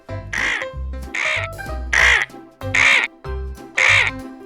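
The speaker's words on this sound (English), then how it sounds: "Vulture." A vulture gives five harsh, hoarse squawks spaced evenly apart. Each call is loud and close, set against soft background music.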